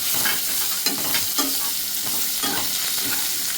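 Ridge gourd sizzles steadily as it fries in hot spices, a constant close crackle for a fish shukto, broken by a few soft scrapes of stirring.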